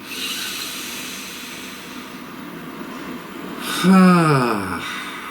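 One long, deep breath drawn in and released with a soft voiced sigh close to the microphone, standing out briefly over a steady low background hiss.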